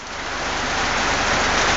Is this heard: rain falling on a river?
yes